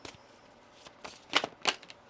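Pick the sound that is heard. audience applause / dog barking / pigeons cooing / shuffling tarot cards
shuffling tarot cards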